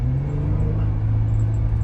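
Jeep Wrangler Rubicon JL pulling away from a stop, a steady low engine rumble and drone heard from inside the cabin, with no talking.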